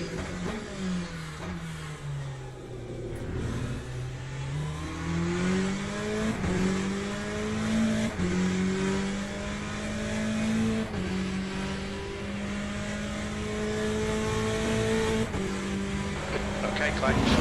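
An LMP2 prototype race car engine in the Le Mans Ultimate sim racing game at Spa, a continuous high whine rising and dropping through gear changes and revs, with a person talking over it at times.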